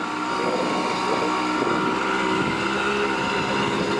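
A Simson moped engine drones steadily while riding, a continuous buzzing hum mixed with wind rush on the microphone, close and fairly loud with no clear breaks.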